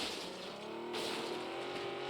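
Car engine in the video game PUBG, a steady loud motor drone with a brief shift midway, running continuously without talk.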